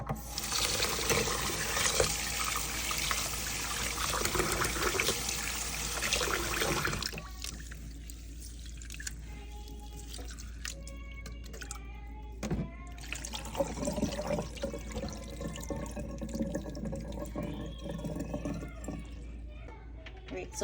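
Tap water gushes loudly into a cooking pot for several seconds, then stops, followed by clinking and handling noises with a person talking.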